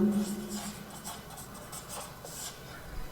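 Pen strokes scratch across paper while a square's perimeter and area problem is worked out in a maths lesson, coming as soft, faint, intermittent bursts close by.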